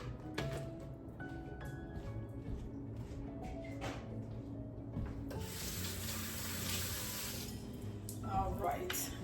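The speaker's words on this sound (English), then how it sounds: "Always wash your hands for sanitary reasons." Tap water runs steadily as hands are washed in a kitchen sink while cooking smoked sausage, preceded by a few soft clinks and clatter, with the rushing water taking over midway and continuing to the end.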